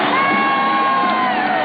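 A packed basketball arena crowd at the Summit roars for the Houston Rockets in a 1996 NBA game against the Sonics, a loud, sustained wall of cheering and whoops with no break.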